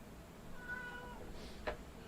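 A cat meows softly once or twice in a quiet indoor room, faint and close, with low background hum and no talk over it.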